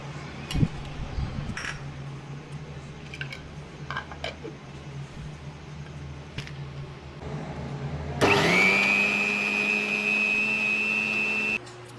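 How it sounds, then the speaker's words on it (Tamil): A kitchen mixer grinder whirs into a loud, steady high whine as it grinds soaked cashews for aloo matar kurma, running for about three seconds before cutting off after a quieter stretch of faint clatter. "அதை எடுத்து மிக்சியில் போட்டு அரைச்சி எடுத்துக்கலாம்"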